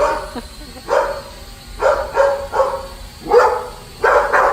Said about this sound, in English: Now Nala's barking.